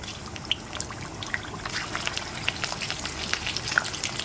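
Chicken pieces dropping into a hot biryani pot, frying with a steady crackling sizzle and scattered sharp pops and spatters, close and moderately loud with no talking.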